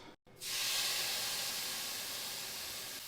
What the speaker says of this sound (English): I'm going to add my onions